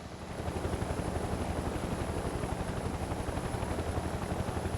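A helicopter in the video game Mercenaries 2: World in Flames flies close by, its rotor a loud, steady rapid thumping that fills the whole clip with a dense roar.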